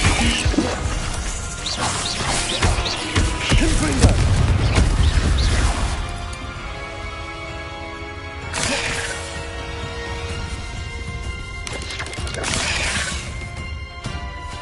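Confringo blasting spell going off in Hogwarts Legacy combat, a loud crashing burst with heavy low rumble in the first seconds, followed by quieter whooshes and further sharp impact bursts over background game music.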